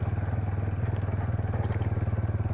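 Motorcycle engine thrumming steadily up close on a road ride near Islamabad, a low pulsing beat under wind noise as the rider eases off the speed.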